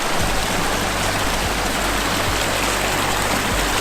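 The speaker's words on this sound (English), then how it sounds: "quite clearly hear the running water" Small waterfalls in Ogwen Valley in Snowdonia pour in a loud, steady rush of running water that fills the whole scene without a break.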